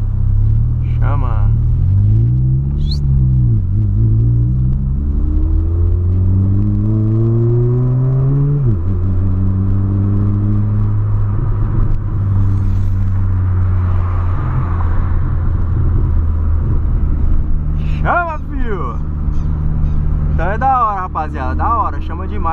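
A 2008 Volkswagen Polo engine revving and accelerating, loud rising and falling engine tone with gear changes, heard from inside the car while someone talks over it.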